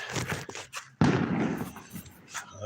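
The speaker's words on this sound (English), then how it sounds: "There are fireworks going off, but I think those are kids, neighborhood kids." Fireworks or firecrackers set off by kids in a Wyoming neighborhood, heard from a campsite: one sharp, loud bang lands mid-clip and rolls into a long rumbling tail, with softer pops and noise before it.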